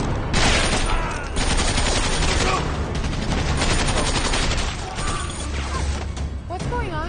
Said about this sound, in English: Sergeant, who's shooting?